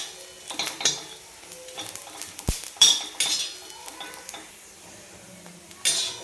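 Masala with coriander seeds being dry-roasted and stirred in a pan for a traditional black mutton curry, with scattered scraping and clinking of a utensil against metal and a few soft crackles.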